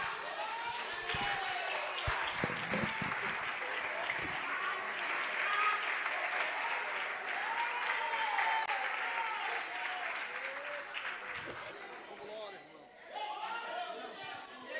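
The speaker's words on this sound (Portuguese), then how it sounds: "Aplauda Jesus." Church congregation clapping in praise to Jesus, a broad continuous wash of applause mixed with crowd voices and cheering, steady for most of the stretch and thinning briefly near the end.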